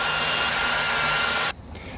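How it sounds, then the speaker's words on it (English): A power buffer runs with compound over car paint, giving a loud, steady close whirring hum that cuts off abruptly near the end, leaving faint background noise. "I'm just going to go over this area with the buffer and show you how that looks after it gets buffed."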